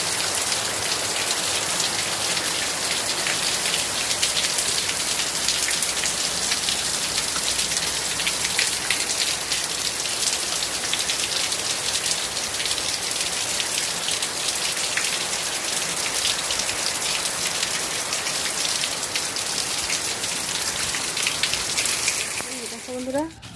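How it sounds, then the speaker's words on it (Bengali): Heavy rain falls steadily near a pond, a dense, even hiss of drops hitting water and surfaces that holds nearly unchanged for over twenty seconds, with a brief voice just at the end. "ঝমঝম করে বৃষ্টি পড়ছে।"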